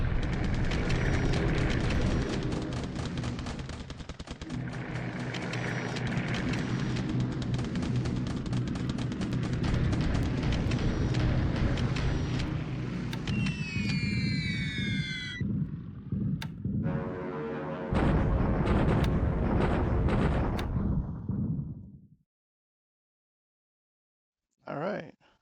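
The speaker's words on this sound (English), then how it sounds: "see this is what you want with these attack bombers, strafing and bombing" B-25G attack bombers strafe and bomb in War in the Pacific, a World War II naval strategy game, with a long dense roar of gunfire and explosions rumbling loudly for about twenty seconds before cutting off to silence and a final short burst.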